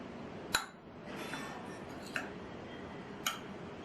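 A spoon clinking against a bowl while sugar and grated coconut are mixed, three sharp, isolated clinks spaced apart over quiet stirring noise, close and fairly soft.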